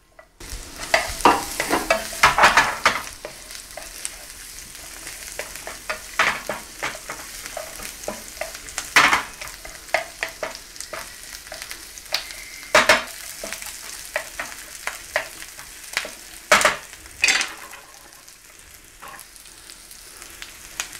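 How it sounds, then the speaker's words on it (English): Garlic and onions stir-frying in oil in a non-stick pan, a continuous sizzle punctuated by irregular sharp clacks and scrapes of a utensil tossing them, close up with no talk. "So we want to be going in there with our garlic and our onions."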